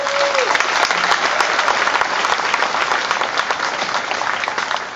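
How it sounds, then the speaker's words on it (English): Convocation audience at Okanagan College applauding, a dense, loud, steady wash of clapping from a large crowd that holds evenly throughout, with a brief voice at the start. "Let's hear a round of applause."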